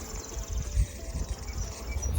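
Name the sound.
honey bees buzzing at the hive in the morning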